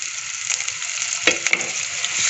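Chicken roast fries with paste in a pan while being stirred: a close, steady sizzle with a few sharp spatula scrapes and knocks partway through.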